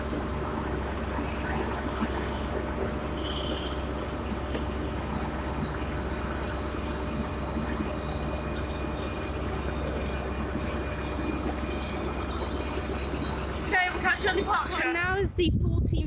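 A Class 800-series train pulls into Taunton station on the Great Western Main Line, a steady low rumble and hum under platform noise, with a brief louder clatter near the end; someone talks nearby.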